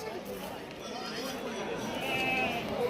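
Goats bleating at the Shirur livestock market, a few nearby bleats rising over busy crowd chatter and people talking, moderately faint overall.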